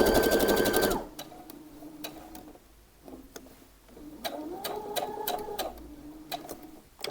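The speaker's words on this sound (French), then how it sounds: "Vraiment coudre 1 cm du bord." A sewing machine stitches in a brief, dense buzzing run before stopping, followed by sparse ticks, clicks and light mechanical handling sounds near the machine.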